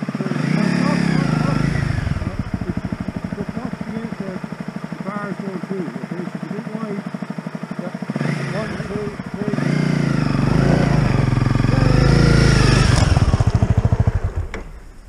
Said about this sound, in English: Okay, start the bike, will you?